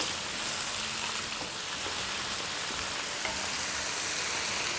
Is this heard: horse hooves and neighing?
no